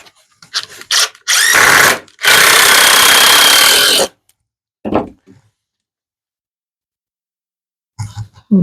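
A power drill drives screws into wood in two sustained loud bursts after a few short blips, followed by brief single whirs separated by silence.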